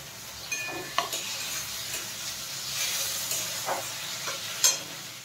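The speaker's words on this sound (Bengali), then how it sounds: "আদাটা ভাজা ভাজা হয়ে গেলে এবার টমেটো কুচিটা দিয়ে দেবো, কাঁচা লঙ্কা কুচিটা দিয়ে।" Ginger paste fries in a kadai with chopped tomato and green chilli for aloo dum. A steady close sizzle runs throughout, with a few sharp clicks from stirring.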